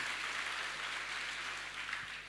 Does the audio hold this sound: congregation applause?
yes